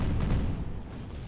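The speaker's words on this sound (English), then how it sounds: "Good old TAC nuke submarine. And up it goes." A tactical nuke launched from a submarine explodes in the Zero-K strategy game, a loud, deep rumbling blast that rolls and fades over about a second.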